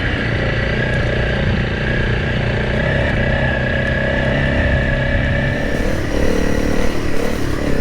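A Honda CRF300L dual-sport motorcycle rides over bumps on a trail along an old quarry road, its engine droning loudly and continuously, close by, with no voices.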